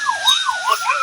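An ambulance siren in a gangster crime video game wails loudly and close, rising and falling in quick repeated sweeps.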